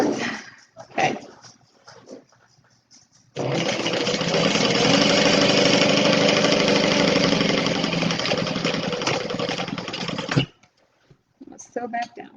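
A domestic sewing machine stitches a Stella weekender bag in one sustained, even whirring run of about seven seconds, with brief handling noises and a voice before and after.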